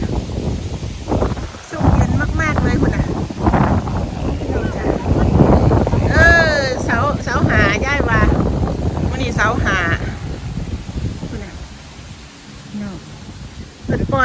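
Wind and rain sweep past in a steady broadband rush outdoors, with gusts buffeting the microphone while several people talk loudly over it almost throughout.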